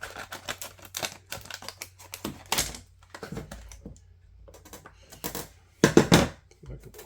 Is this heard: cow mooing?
no